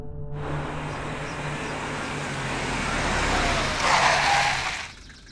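A car rolls along a road and comes to a stop, giving a steady broadband engine and tyre rumble that swells slightly near the end, then drops away as the vehicle halts.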